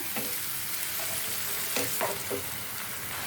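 Onions and tomato frying in hot oil in a pan for a chicken curry gravy, with a continuous close sizzle and a few soft stirring scrapes, no voices.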